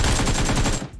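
Rapid sustained burst of AK rifle fire in the mobile battle royale game BGMI, loud and close, about a second of evenly spaced shots that cuts off abruptly.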